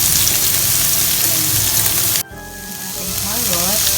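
Carrots tossed into a hot pan for bam-i give a loud, dense sizzle. It cuts off sharply partway through, then returns more softly, with faint clinks underneath.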